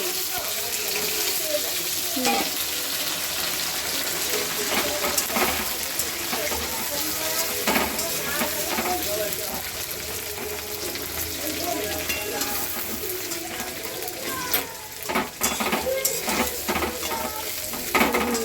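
Onion, capsicum and chili frying together in a pan for a Sunday lunch dish: a steady, loud sizzle with scraping stirs throughout, plus intermittent water-like splashing, sustained for the whole stretch.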